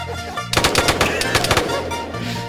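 Gunfire from the video game Arma 3: after a quiet lead-in, a loud, close burst of rapid automatic shots rings out for about a second and a half, then fades into echo.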